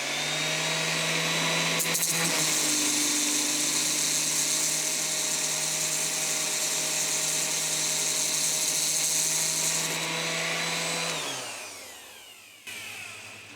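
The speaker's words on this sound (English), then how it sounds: "turn on a sander, hold it against the wheel and spin it like this." A power sander pressed with high-grit sandpaper against a spinning BMW fan wheel gives a loud continuous whirring grind, steady for about eleven seconds before winding down in pitch and fading.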